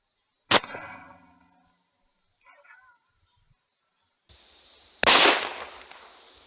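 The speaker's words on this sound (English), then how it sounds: "Have you ever been curious what a Remington 870 loaded with birdshot will do to a bag of flour?" Two sharp, loud blasts from a Remington 870 shotgun firing birdshot at a bag of flour, several seconds apart, each ringing briefly with quiet pauses between.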